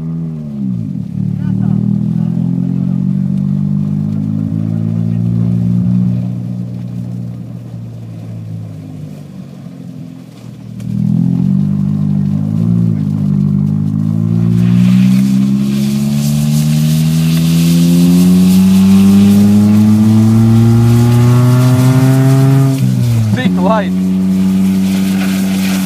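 A car driving on snow while towing a tire on a rope, its engine revving up and down in long rising and falling sweeps with several gear changes, loud and close, with people talking over it.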